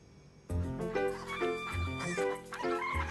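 Cartoon hens clucking on a farm, a burst of busy, overlapping clucks with a bright musical backing that starts abruptly and continues steadily, no talk.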